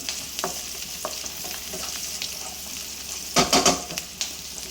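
Green chillies fry in oil in a pan for an egg drop gravy, making a soft continuous sizzle with a few light taps and a brief louder burst of spatula stirring near the end.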